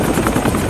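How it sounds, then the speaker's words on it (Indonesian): A military helicopter in a war film set in Iraq roars with a loud, steady rotor rumble that fills the whole short moment, with no voices over it. "suaranya terhalang oleh gemuruhnya suara helikopter yang ada di sana"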